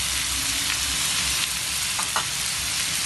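Tomatoes sauté in dendê oil in a pan, giving a dense, even, loud sizzle throughout, with a couple of faint utensil taps near the end.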